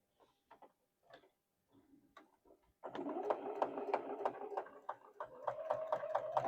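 A few faint handling taps and rustles come first, then a sewing machine starts up and runs steadily, stitching fabric with a quick rhythmic clatter of needle strokes to the end.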